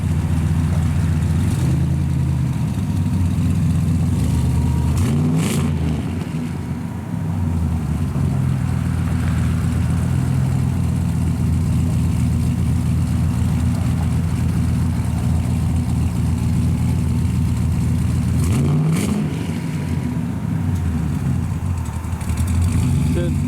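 A 1965 Chevrolet Impala with an LS twin-turbo engine and drag radials in the rear rumbles loudly and steadily up close, with sharp revs rising and falling twice.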